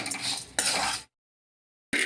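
Spices are roasted in a ladleful of oil in a pan, and a spoon scrapes and stirs them in two short bursts of clattering before the sound cuts to silence.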